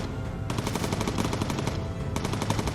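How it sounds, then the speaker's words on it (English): Machine gun fire in the video game Bomber Crew, loud sustained rapid bursts of automatic fire, close and continuous with a brief pause between volleys. "We've just got to keep shooting these guys down so that the pilots have an easier job."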